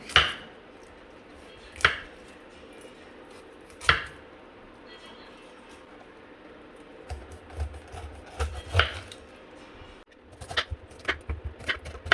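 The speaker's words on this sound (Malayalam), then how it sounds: "പൈനാപ്പിൾ ഒന്ന് മുറിച്ചെടുത്ത് അരിഞ്ഞെടുത്തതിന് ശേഷം കിച്ചടി ഒന്ന് തയ്യാറാക്കിയെടുക്കാം" A sharp knife chops pineapple on a board, a few spaced strikes then a quicker run of cutting sounds through the fruit near the end.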